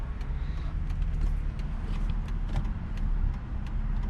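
A Buick Regal GS fitted with a ZZP Stage Two upgrade cruising on a freeway, heard from inside the cabin as a steady low engine and road drone with light rattles and clicks, no talking.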